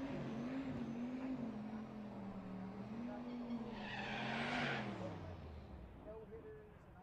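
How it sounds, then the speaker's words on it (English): A stick-shift Cadillac CTS-V with a turbo LS engine at a race week event, its engine drone rising and falling while tires squeal briefly midway, with steady background noise and no speech. "Stick shift car, that's David Muth. Cadillac CTSV Turbo LS."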